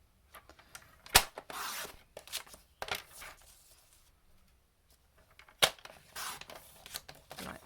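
Card stock being cut while making a card window aperture, a handful of sharp crisp snips and rustles scattered over several seconds, close and quiet, with near-silent gaps between them.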